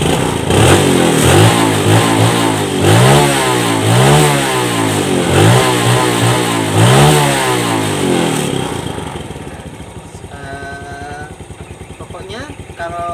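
A hard-starting 2011 Yamaha Jupiter Robot motorcycle engine revs loudly in a series of rising and falling bursts, then drops to a quieter, steady idle for the last few seconds.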